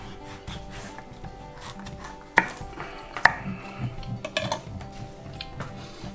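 A knife cuts through pumpkin on a board in an outdoor kitchen, giving a few sharp, separate thuds and chops, moderately loud over faint background noise.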